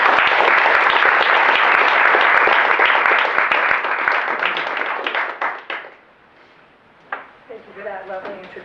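An audience at an academic philosophy research talk applauds warmly, with dense sustained clapping that fades out over about six seconds before a voice begins speaking.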